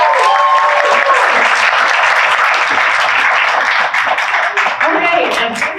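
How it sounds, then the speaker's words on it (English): Sustained audience applause for two student presenters at a youth entrepreneurship competition, dense, steady clapping from a crowd filling the hall throughout, loud and continuous with no break. "Let's give them another round of applause."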